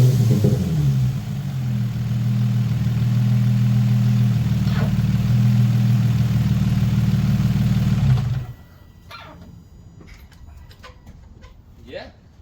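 An Infiniti G35 Coupe engine with a new exhaust runs at a loud, steady drone for about eight seconds, then cuts off abruptly. Quieter background sounds and birds follow.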